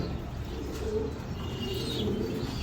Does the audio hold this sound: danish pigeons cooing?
yes